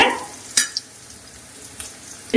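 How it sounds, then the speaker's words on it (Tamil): Ginger garlic paste for a Chettinad pepper prawn fry sautés in a pan: a soft, low sizzle broken by a few sharp spatula knocks, close by, with no one talking. "பச்சை வாசனை போற வரைக்கும் அதை நல்லா நம்ம வதக்கிக்கலாம்"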